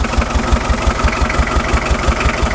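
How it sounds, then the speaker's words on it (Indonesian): Starter motor driving an ordinary oil pump on a modified hydraulic dump pickup, a steady loud mechanical whir with a fast rhythmic low pulsing throughout, close by, with no talk. "Saya tidak pakai PTU, makanya motor starter sama pompa oli biasa. Ini hidrolis dam biasa."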